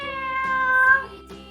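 A single clear, close cat meow, drawn out and rising then falling, followed by a quieter short trailing note.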